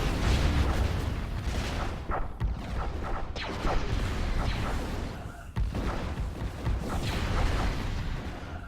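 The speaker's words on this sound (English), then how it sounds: "It has media plasma cannons, but I think my shields are absorbing all of its fire." Dense, continuous barrage of booming plasma cannon blasts and rumbling impacts against ship shields in a chaotic Stellaris space battle, loud and sustained with brief dips.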